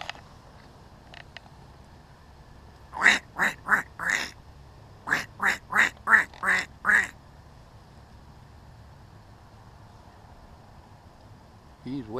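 A person's voice imitates a red-tailed squirrel's call outdoors: a burst of four nasal, chattering calls, a short pause, then six more in steady rhythm, fairly loud and near.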